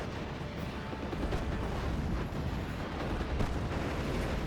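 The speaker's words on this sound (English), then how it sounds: "Barrage coming on in." Artillery barrage from a Company of Heroes–style WWII strategy game, with shells landing as a sustained, dense rumble of overlapping booms and crackling blasts that hold steady across the whole stretch, with no clear gaps.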